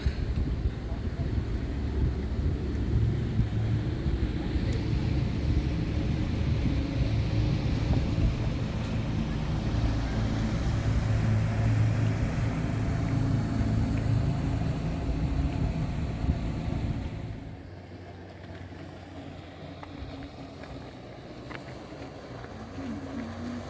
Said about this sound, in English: And there's a boat coming up.